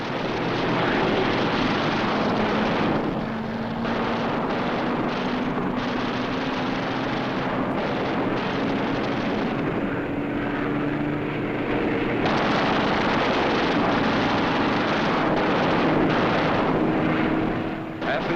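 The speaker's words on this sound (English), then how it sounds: "The B-17 catches fire and goes down in flames." B-17 bomber in 1945 aerial combat, catching fire and going down, heard as a continuous loud roar of aircraft engines with a droning tone and bursts of gunfire-like noise throughout.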